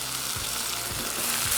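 Cumin seeds fry in a masala in a pan, a loud close steady sizzle with a few soft stirring scrapes recurring through it.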